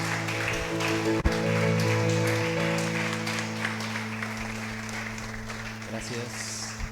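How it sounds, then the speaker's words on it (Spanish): A church congregation applauds during a worship service in Monterrey, a steady wash of clapping under a held musical drone, fading toward the end with light background sounds. "Vamos a darle un fuerte aplauso a nuestro Dios."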